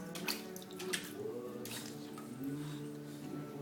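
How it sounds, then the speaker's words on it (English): An English bulldog puppy digs and splashes in its water bowl, making irregular close sloshes and drips, with brief faint noises between the splashes. "He's just having fun with the water going everywhere."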